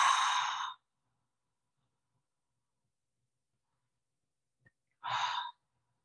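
Two slow, breathy exhalations, like blowing out a candle, come close and soft at the start and near the end, separated by a long silence.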